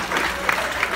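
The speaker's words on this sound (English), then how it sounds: "Give him a big round of applause." A studio audience at a newlywed quiz game show claps for a contestant, a brief loud burst of crowd clapping with a couple of sharper hand hits and a hint of voices.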